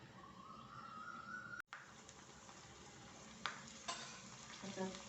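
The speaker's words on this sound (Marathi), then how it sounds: "पॅन गरम केलेलं आहे तेल टाकायचं त्याच्यामध्ये हे तीन चार पाकळ्या मी लसूण घेतलेला आहे तो टाकायचा आहे" Garlic cloves dropped into hot oil in a heated pan give a brief crackle, then sizzle steadily and fry close by, with a few sharper pops and stirring clinks.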